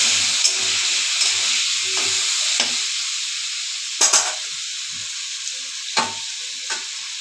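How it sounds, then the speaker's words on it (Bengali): Potatoes fry with salt and turmeric in a pan, giving a steady close sizzle and hiss, broken now and then by short scraping stirs and a few louder spits. "এবার আলুটা তো আমি ভালো করে ভেজে নেব।"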